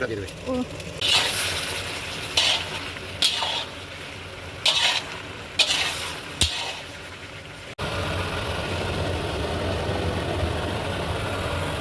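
Spice paste for a Bengali fish curry fries and is stirred in a pan, giving a steady sizzle broken by repeated scraping strokes before the sizzle settles into a continuous hiss.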